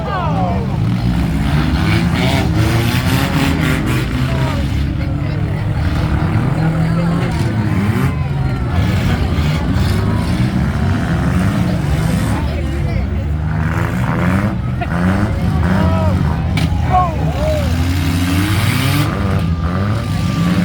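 Demolition derby at the Allen County Fair arena, cars including a Saturn revving and crashing, a loud steady roar of engines with intermittent metallic impacts, under an announcer's ongoing commentary.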